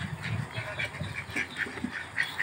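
Several ducks quacking in repeated nasal calls, close and steady over a noisy outdoor background.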